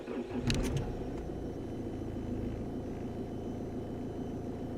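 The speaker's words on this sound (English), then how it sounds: "Now start the engine." A car engine cranks with a short burst of starter clatter, then settles into a steady idle that runs on at moderate level, with no voices.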